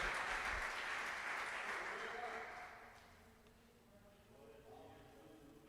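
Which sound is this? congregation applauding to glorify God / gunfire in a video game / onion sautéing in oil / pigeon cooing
congregation applauding to glorify God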